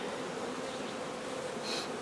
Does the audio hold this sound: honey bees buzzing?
yes